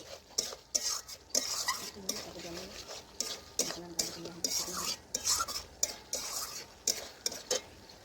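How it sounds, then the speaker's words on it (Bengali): Mutton being stirred and fried dry in a pan, with repeated scraping clicks of a spatula against the metal over a soft sizzle, steady and close. "যেটুকু জল আছে মটনের গায়ে সেটাও আমি এভাবে নাড়াচাড়া করে কষতে কষতে দেখুন শুকিয়ে নিচ্ছি"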